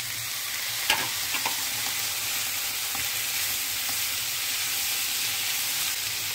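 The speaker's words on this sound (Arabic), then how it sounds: "هبتدي احط مكعبات الطماطم" Diced tomatoes frying in a pan with seasoned shrimp give a steady, loud sizzle and hiss, with a few faint clinks of stirring early on.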